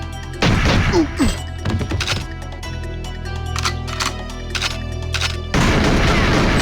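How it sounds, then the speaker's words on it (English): Gunfire in the N64 video game GoldenEye 007, with bursts of loud shots and impacts at the start and end and quieter, scattered shots through the middle, heard alone with no talking. "we're getting shot at from multiple directions at once, in narrow corridors that don't offer us much"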